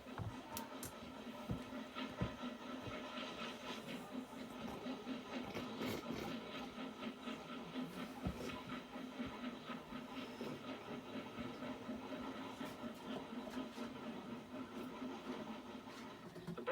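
Southern Railway steam train climbing an incline with three R1 tank locomotives at the front and one banking at the rear, a steady continuous chuffing rumble with some clanking, heard at moderate distance without speech.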